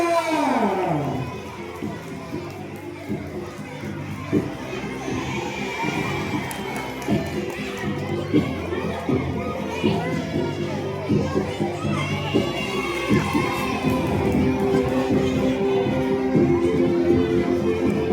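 A lively crowd of children cheers and shouts with scattered clapping at a school fashion show, loud and sustained throughout.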